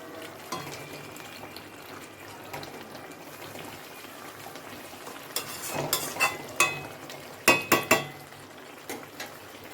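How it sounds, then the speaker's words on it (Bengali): Pomfret fish curry in a mustard-poppy gravy bubbles and sizzles softly in a pan. Toward the end, a cluster of sharp utensil clinks and scrapes rises over the steady simmer. No voices. "ঝোলটা ফুটে গেছে মাছটা দিয়ে দিচ্ছি"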